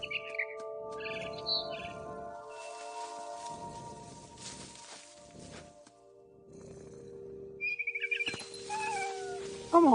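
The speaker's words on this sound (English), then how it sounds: "I was a cat." In What Remains of Edith Finch, a cat gives several separate meows, medium loud against a steady hum, and bird chirps and tweets come in near the end.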